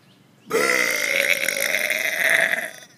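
One long, loud, deep burp starts abruptly and rolls on steadily for about two and a half seconds, close up, with nothing else heard.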